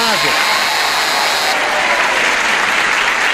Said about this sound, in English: You prepare for the applause